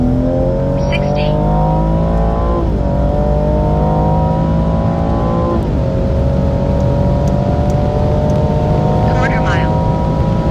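A tuned BMW M140i and BMW 240i with ZF8 gearboxes accelerating hard over a quarter mile, heard from inside as one engine climbs steadily through the revs with two brief drops at the gear shifts, while people talk underneath.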